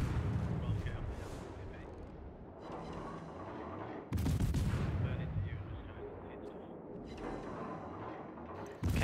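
Incoming artillery shells in a tank video game: heavy booming blasts and rumbling impacts, with a loud burst midway and another at the end, over constant battle noise.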